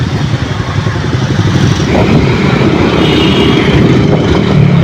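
A motorcycle engine runs steadily and loud throughout, a continuous low rumble holding from start to finish with no clear revving peaks and no voices over it.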